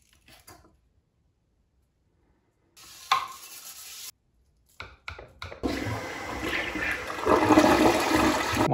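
A household toilet flushes: a short click and clatter of the handle, then a rising rush of water that swells into a loud, sustained gurgling swirl as the bowl siphons down the drain.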